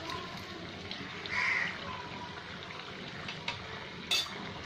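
Poornam boorelu, sweet stuffed fritters, frying in hot oil give a soft steady sizzle, with a brief clink of a utensil and a couple of faint taps, no voices.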